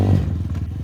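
Motorcycle engine close by as the clutch is dumped for a beginner's wheelie, a brief low rumbling rev with some clattering mechanical noise, no talking.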